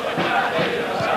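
Large football crowd at Burscough's Victoria Park before an FA Trophy semi-final second leg against Aylesbury United, a steady dense murmur of many voices with no single sound standing out, filling the whole moment.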